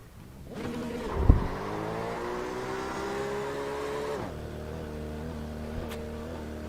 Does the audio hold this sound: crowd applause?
no